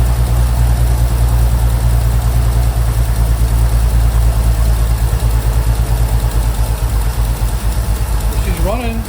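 A 1969 Chevy C30 truck engine running after a head gasket replacement, a loud, steady low rumble with a regular pulsing beat, holding even throughout until a voice speaks briefly at the end.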